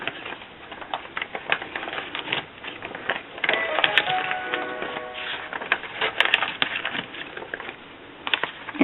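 Brittle pages of an old book being crumpled by hand, a close, dry crackling and rustling that comes in uneven bursts, growing busier and louder in the second half.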